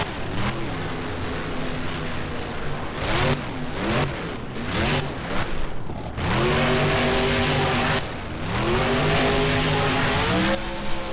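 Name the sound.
monster truck engine revving and driving in video game BeamNG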